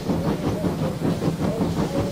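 A cartoon steam train rolls slowly into a siding, giving a steady chuffing hiss with rhythmic rail clatter at moderate volume, without speech.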